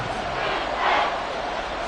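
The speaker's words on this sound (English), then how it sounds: "Here comes a big one as this crowd gets out making some noise." A football stadium crowd roars in a broad, steady wash of cheering that swells briefly in the middle, loud and distant-sounding, with no clear individual voices.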